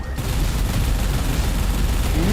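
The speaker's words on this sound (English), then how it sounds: "Look at those explosions all around." Mine explosions in the EVERSPACE 2 space-combat video game, a dense continuous rumble of overlapping booms and crackling blasts, loud and sustained after a brief quiet start.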